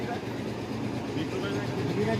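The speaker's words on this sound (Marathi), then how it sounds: "ट्रेन सुरू आहे." A train engine runs steadily near Chikhaldara, a dense continuous rumble with a low, rough drone that holds at an even, fairly close level for the whole stretch.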